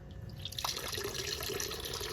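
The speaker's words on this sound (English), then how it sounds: "filtration or pump is working, waterfall is running" Pond waterfall running steadily after a valve is opened, a continuous close splashing and trickling wash of water with small drips, steady in level throughout.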